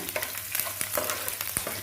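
Ginger and garlic frying in hot oil, a steady sizzle broken by quick scrapes and clinks of a spoon stirring in the pan.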